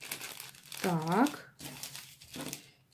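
A paper banknote crinkles and rustles as it is folded into an origami heart, with soft close crumpling bursts while someone speaks briefly over it.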